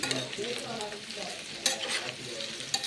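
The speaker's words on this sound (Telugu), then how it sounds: "మధ్య మధ్యలో కలుపుతూ బాగా ఫ్రై చేసుకోండి" Peanuts and okra pieces fry over a medium flame, giving a continuous close sizzle broken by a few sharper clicks and scrapes as they are stirred in the pan.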